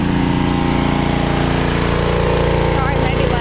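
Loud, steady machine drone of a washer running in a shop while tires are being washed, a constant engine-like hum filling the whole stretch with a voice faintly underneath.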